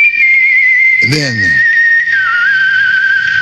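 Whistled tune as a short break within a reggae-style song, a steady sustained whistle line running throughout with a brief spoken interjection and vocal burst near the start.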